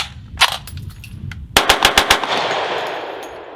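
Kriss Vector in .45 with a binary trigger fired at an outdoor range: a few sharp single shots, then a fast burst of about six loud cracks trailing into echo, no talking.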